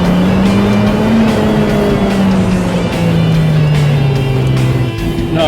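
A Lotus sports car is driven hard through corners, its engine a loud, close, sustained roar with rising and falling pitch as it accelerates and eases off.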